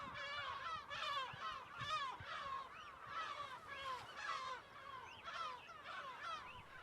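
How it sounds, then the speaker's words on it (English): Seagulls calling around a derelict isolation hospital on an island, a dense overlapping chorus of many harsh, yelping cries repeating steadily throughout, moderately close. "The gulls, only too happy to perch on its decaying roof and observe the landscape."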